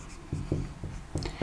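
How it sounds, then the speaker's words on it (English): Chalk or marker writing on a board during a technical lesson: a series of short scratchy strokes in an uneven rhythm, close and moderately faint, with no talking. "So I'll write it out here again."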